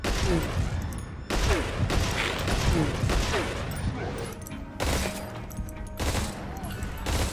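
Burst fire from a Glock 18 pistol in Metal Gear Solid 5, with several sharp, loud volleys spaced through a dense, busy game soundscape.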